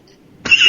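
A single short, loud cough from a podcast host, close to the microphone, rising abruptly after a near-silent moment.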